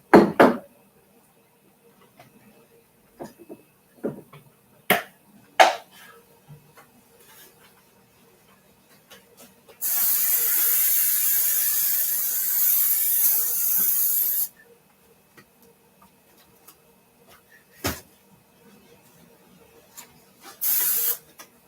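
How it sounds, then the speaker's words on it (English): Aerosol spray let out in an apartment to cover cigarette smell: one long, steady hissing burst of about four and a half seconds, close and loud, between scattered quiet handling knocks. "it smells like cigarette in here, so let me fucking spray"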